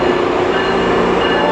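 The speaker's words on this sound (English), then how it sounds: "And here comes the GO train." A GO commuter train pulls into a Toronto station, a steady loud rumble of rolling railcars and wheels with continuous broadband rail noise throughout, no distinct voices.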